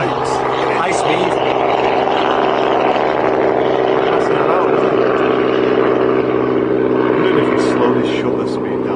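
Robinson helicopter passing fast at high speed across an airfield at a fly-in event, a loud steady rotor and engine drone close by throughout, with a voice faintly underneath.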